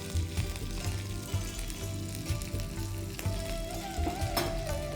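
Spices for mango pulihora fry gently in oil over a low flame, a continuous soft sizzle with faint crackles, accompanied by a low humming tone and background music.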